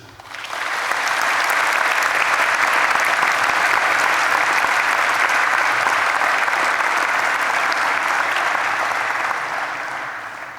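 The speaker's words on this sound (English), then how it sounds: "I think you will deserve a round of applause from the students" A graduation ceremony audience at UCLan claps for the students' supporters, a dense, loud round of applause that swells in quickly, holds steady for about ten seconds, then tapers.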